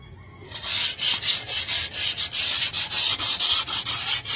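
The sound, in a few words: sandpaper scrubbing rusty steel chair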